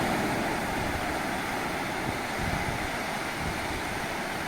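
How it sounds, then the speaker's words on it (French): Sea waves wash steadily onto a beach, a continuous broadband rush with a little wind noise mixed in, even and unbroken throughout with no voices. "je vais te laisser écouter le bruit des vagues"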